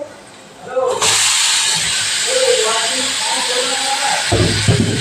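Mushrooms hit a pan already seasoned with salt and turmeric, with onion in the dish, and a loud, steady hissing sizzle bursts in after a second and holds. The sizzle eases briefly near the end with some low clatter.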